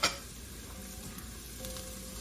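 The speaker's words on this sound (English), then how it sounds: "Shallots sauteed for about a minute." Shallots and garlic sautéing in a hot pan give a steady, close sizzle and crackle from start to finish, with a brief bright spatter right at the beginning and no talking.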